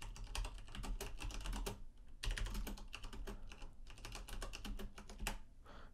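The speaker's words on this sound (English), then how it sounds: "So let me type that in here." Rapid typing on a computer keyboard while entering a lighting console macro for a live effect, with close, crisp key clicks in quick bursts and brief pauses between them.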